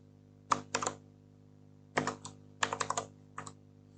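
Computer keyboard being typed on while writing code, with bursts of crisp close key clicks separated by short pauses and a faint steady hum underneath.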